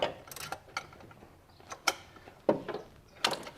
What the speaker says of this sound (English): So now we're going to use a ratchet wrench.